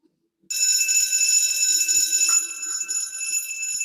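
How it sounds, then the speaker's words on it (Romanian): A shrill electronic alarm in the video game Stick-man FNAF suddenly starts ringing and keeps sounding steadily and loudly, with faint low thumps beneath it. "Probabil se declanșează o alarmă la un moment dat."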